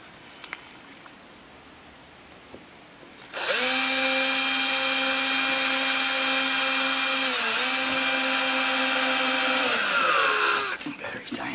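A battery-powered sander flattening warped wood for a treasure chest starts up after a few quiet seconds, a loud steady whine that dips slightly in pitch partway through and then winds down near the end.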